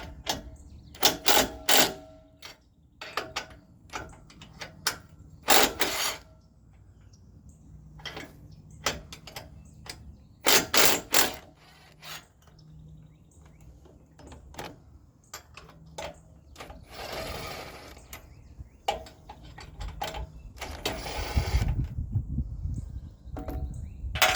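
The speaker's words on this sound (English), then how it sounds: "We're going to undo the trailer jack." Work on a boat trailer jack, with repeated metallic clicks, ratcheting bursts and clanks spaced irregularly at close range, plus brief scraping and low rumbling toward the end.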